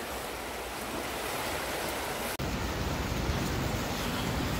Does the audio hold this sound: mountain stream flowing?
yes